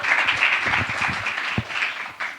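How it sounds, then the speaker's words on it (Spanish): An audience claps to welcome a speaker at a talk on UGC ecosystems, producing a dense, moderately loud burst of applause that gradually thins out. "vamos a recibirla con un fuerte aplauso"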